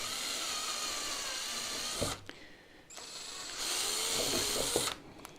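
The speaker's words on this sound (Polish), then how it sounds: "Wiertarka i lecimy. Troszeczkę mniejsze wiertło." A power drill runs with a slightly smaller bit while assembling a home ozone generator, a steady high-pitched whine that stops briefly, restarts, and fades near the end, close and loud with no talk.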